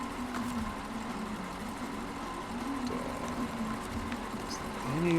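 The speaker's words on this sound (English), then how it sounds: "But the engine's still running." A truck engine idles steadily in the SnowRunner video game, a constant mid-pitched drone with a faint mechanical whine rising slightly toward the end.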